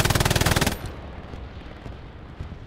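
Rapid MG42 machine gun fire in a World War II shooter game on the Omaha map, a loud, dense burst of regular shots lasting under a second, then quieter background battle noise.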